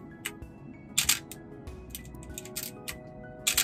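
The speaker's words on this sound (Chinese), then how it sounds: "菲林机，它那个的快门的声音都是不同的，" A mechanical shutter on a second-hand film camera, tried out in a camera shop, fires with a few short, sharp clicks spaced apart over a quiet room hum.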